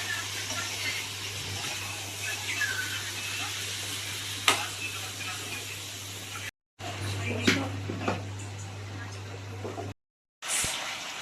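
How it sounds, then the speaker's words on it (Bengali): Onions sautéed and stirred together in a pan for a red chicken curry, with a soft, steady sizzle under a low hum, a few scraping stirs, and short breaks of silence. "পেঁয়াজটা একসাথে কষাতে কষাতেই পেঁয়াজটা গলে যাবে"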